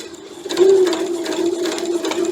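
Sewing machine stitching quilt block pieces with a quarter-inch presser foot, run slowly in short bursts of rapid needle chatter over a steady motor hum, close and fairly loud.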